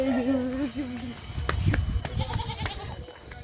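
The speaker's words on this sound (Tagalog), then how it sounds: "There's a goat right over there. It's a goat." A goat bleats outdoors in Pangasinan, a wavering cry close by at the start, followed by rustling and a second fainter bleat, while a person talks over part of it.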